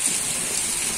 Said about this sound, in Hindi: तब तक बारिश थोड़ी सी शुरू हो चुकी थी, लेकिन इतनी तेज़ नहीं थी